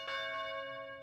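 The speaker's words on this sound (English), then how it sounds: "That sounds like church bells." Church bells ringing in the Tales of Symphonia video game: a single sustained, resonant peal with long ringing overtones, fairly loud and alone.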